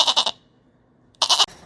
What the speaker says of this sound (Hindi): बकरियां मेमे की आवाज़ करके बोलने लगी।